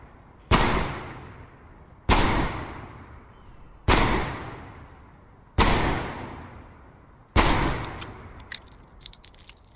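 Five loud, evenly spaced Magnum revolver shots from the Call of Duty Cold War video game, each a sharp blast with a decaying tail, the last followed by small metallic clinks.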